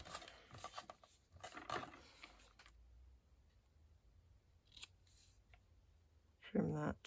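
Scissors trimming a paper wedding favour, a few brief close snips and rustles with quieter handling noise between, ending in a louder burst.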